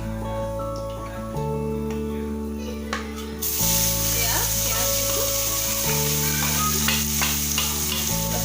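Loud sizzling and spattering as onions hit hot oil with nigella seeds, with stirring scrapes and a steady background hum; the hiss intensifies midway and continues.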